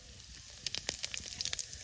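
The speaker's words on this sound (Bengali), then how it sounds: "মাছ ভাজা তেলের মধ্যে জিরে আর কালো জিরে দিয়ে দেবো" Cumin and black cumin seeds hit hot oil left from frying sea fish, giving a steady sizzling hiss with scattered sharp crackles and pops, close and fairly quiet, with no talking.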